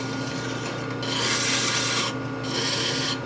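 A hand file rasps back and forth across the metal of a 1957 Harley panhead engine head converted for drag and land-speed racing, the close, steady scraping strokes coming in bursts with short pauses between them.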